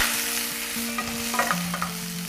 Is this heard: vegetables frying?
yes